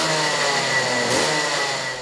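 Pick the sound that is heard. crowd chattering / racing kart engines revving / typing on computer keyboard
racing kart engines revving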